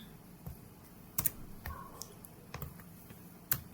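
Computer keyboard being used for a Ctrl X cut: a few quiet, sharp key clicks scattered across a faint, near-silent room, with a tight double tap in the middle and another near the end.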